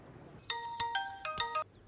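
A mobile phone ringtone chiming in a quiet room, a short bright melodic pattern of several clear tonal notes played close and alone.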